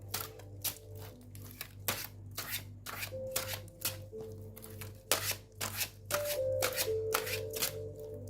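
Tarot cards being handled and shuffled up close, a continuous run of crisp riffling and flicking card sounds with soft slaps, no voices.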